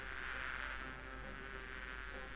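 Bees buzz steadily from a beehive area in the Discworld II: Missing Presumed...!? PC adventure game, a continuous soft droning hum that holds throughout without speech.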